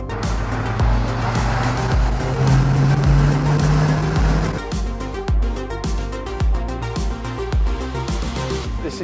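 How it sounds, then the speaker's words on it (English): Engine of a 1990 Phase 2 Renault 5 GT Turbo, loud and close, with a steady drone and a rising tone over the first few seconds, then rhythmic revving pulses; no talking. "This is the Phase 2 Renault 5 GT Turbo 1990."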